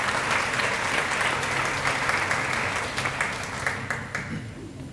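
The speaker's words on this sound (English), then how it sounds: "Let's give him a round of applause." An audience at a retirement tea applauds for Mark, a retiring colleague. Dense, continuous clapping from a room of people holds fairly steady, then thins slightly with a few distinct claps toward the end.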